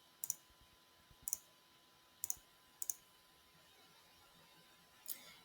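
Computer mouse clicks while importing a file in the Unreal Engine editor: five crisp, quiet clicks, mostly in quick pairs, spaced over a few seconds in an otherwise quiet room with no talking.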